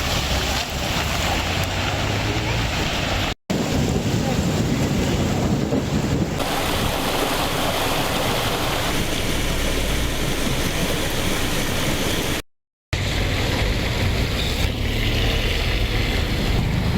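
Heavy rainwater pours along a road in Ooty, heard as a loud, continuous roar of rushing water and wind with two brief dropouts and no talking.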